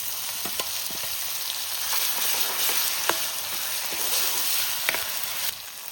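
Onion, ginger and garlic hit hot oil in a frying pan and sizzle steadily, a close, constant crackling hiss with occasional sharper pops and stirring clicks.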